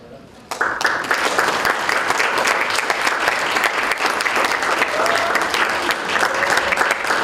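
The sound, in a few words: applause at award ceremony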